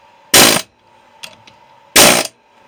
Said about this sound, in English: I didn't know what you were doing with the air hammer